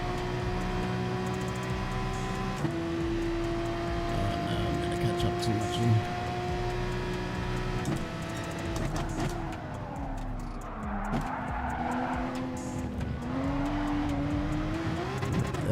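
A racing car's high-revving engine, a VW among the field in a Wheel2 Wheel race, holds a steady loud drone with rising and falling pitch sweeps as a driver talks over it.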